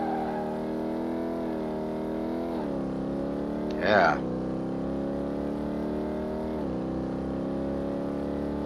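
Virtual car engine in Car Mechanic Simulator 2018 holds a steady drone that climbs and drops as gears shift smoothly, with a brief burst near the middle and a voice speaking over it.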